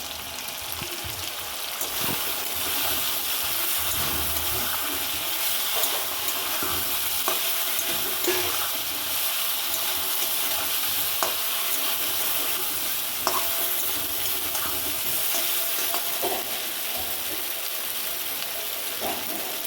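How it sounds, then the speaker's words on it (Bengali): Potatoes sautéing in a pan for a vegetarian aloo dum, giving a continuous close sizzle broken by soft scraping stirs throughout, with no talking. "আলুর দমে আলুটা ভালো করে কষিয়ে নেব"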